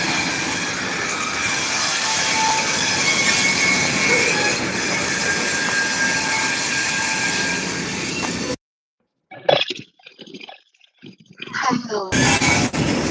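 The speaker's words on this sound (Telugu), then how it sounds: "ఈ ట్రైన్ ఆగిన తర్వాత వెళ్దాం ఆ పక్కకి" Train passing through a railway station, its wheels squealing in a long, loud, sustained screech with rolling rail noise. Brief silence follows, then people talk, and the train noise comes back.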